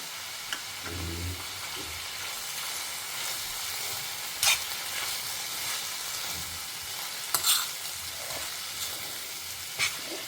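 Vegetables fry in oil with coconut in a Tamil home kitchen, a steady soft sizzle with occasional faint scrapes and clinks of stirring, no one speaking.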